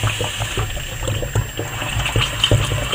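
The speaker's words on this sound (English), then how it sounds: "I'm going to fill it with the water" Tap water running steadily into a reused plastic spray bottle, a continuous close splashing fill with no voices.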